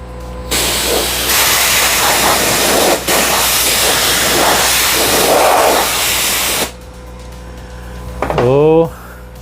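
A burst of compressed air blows sanding dust off a laser-engraved, sanded wooden cutting board in a loud, close, steady hiss that lasts several seconds and then cuts off, followed by a brief rising whine.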